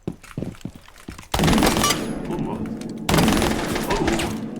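Automatic gunfire in Rainbow Six Siege: after a few quiet taps, two loud, sustained bursts of rapid shots fill the clip, with a short break between them.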